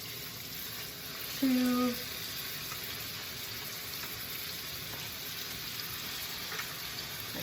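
Ground beef patties sear in butter and olive oil for Salisbury steak, giving off a steady, moderate sizzle throughout. A voice speaks briefly early on.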